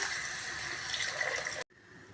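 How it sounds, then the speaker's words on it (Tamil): Water poured from a bowl into masala in a cooking pot for egg biryani, a steady close gushing splash that stops abruptly, leaving quiet room noise. "ஒரு பங்கு அளவுக்கு தண்ணி சேர்த்துக்கலாம்"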